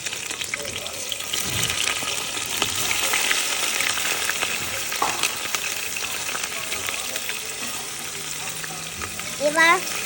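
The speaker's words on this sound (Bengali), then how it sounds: "এবার আমি লাড়াটা দিয়ে দিব।" Chicken skin with chopped onion and green chilli frying in a pan, a continuous loud sizzle with scraping stir strokes throughout, close up and without speech, a brief clatter near the end.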